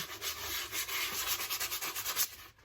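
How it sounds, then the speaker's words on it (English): Steady back-and-forth light sanding strokes on a 3D-printed plastic helmet, a dry rasping rhythm repeated many times, close and fairly quiet, with no talking. "So just a little bit of a light sand."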